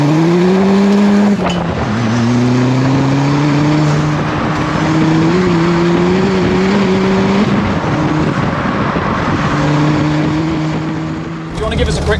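Ford Fiesta Mk4 fitted with a Mk7 ST180 turbo engine and Toyo Proxes R888 tyres, driving along with a steady, fairly quiet engine drone that rises and dips through the gears, heard from inside the car with occasional voices.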